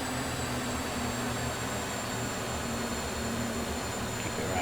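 A T-38 Talon jet engine in Microsoft Flight Simulator roars as a steady, broadband whine with a high-pitched tonal edge. It is heard from the cockpit after coming out of afterburner, even and unbroken, with no voices.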